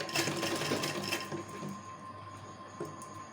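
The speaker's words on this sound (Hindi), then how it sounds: "और इस तरह से सिलाई लगा लेंगे" Sewing machine running a stitch line to attach dori piping to folded fabric, a close, fast mechanical whirr with rapid needle clatter that slows toward the end.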